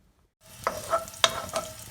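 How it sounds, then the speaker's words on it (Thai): Garlic frying in oil in a pan for Thai shrimp with garlic, a low steady sizzle starting after a short silence, with a few sharp clinks and scrapes of a utensil stirring through it; no talking. "เพราะว่าเราจะ ทอดกระเทียมก่อนนะคะ"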